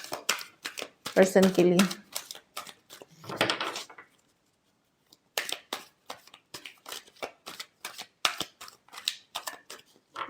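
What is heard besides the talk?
shuffling tarot cards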